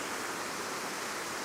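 Waterfall at Merlins Pools rushing steadily in the open air, a dense, continuous roar of falling water at close range with no voices over it.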